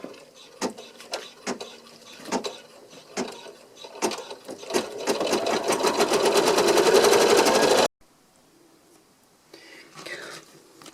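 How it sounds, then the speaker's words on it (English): An embroidery machine doing decorative stitching on an in-the-hoop zipper bag, starting with spaced mechanical thumps, then a rapid, loud, steady stitching chatter that stops abruptly, followed by a quieter stretch with faint machine movement. "So, we begin our decorative stitching."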